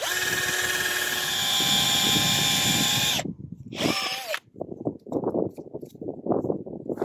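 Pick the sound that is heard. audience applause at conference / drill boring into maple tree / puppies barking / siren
drill boring into maple tree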